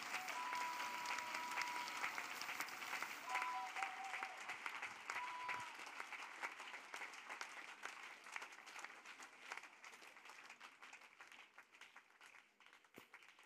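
Sustained applause from a large congregation at a prayer service, many hands clapping continuously and fading gradually toward the end, with faint voices mixed beneath.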